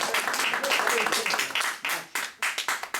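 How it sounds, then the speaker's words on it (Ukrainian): Applause from an audience, a burst of clapping that thins into a few scattered separate claps toward the end, heard mostly alone and moderately loud. "Дальше аплодисмент."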